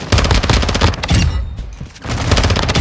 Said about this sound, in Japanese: 奥で空爆落としてるわ。